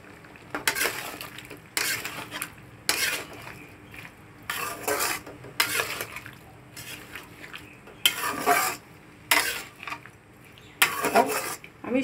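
A spoon scrapes and clatters through food in a pot with ghee, about ten separate stirring strokes in an uneven rhythm, each a close metallic scrape with a faint sizzle in the pauses.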